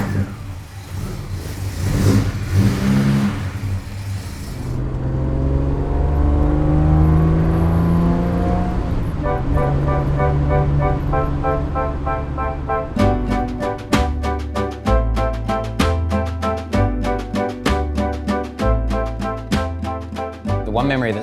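An old classic car pulls away and drives out toward the hills, its mid-pitched engine revving and rising through the gears, loud and close for most of the stretch, with some talk over the start.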